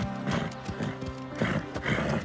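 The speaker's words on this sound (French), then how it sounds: "Cobalt est un cheval doué." A cartoon horse gallops with rhythmic hoofbeats and neighs over them, loud and close, with a whinny standing out near the middle.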